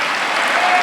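Clapping fills a church service as a congregation applauds together, a dense, loud wash of many hands in steady overlapping claps for a brief moment, with no voices.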